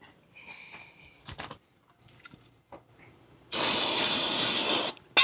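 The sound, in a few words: spraying brake cleaner on RV disc brakes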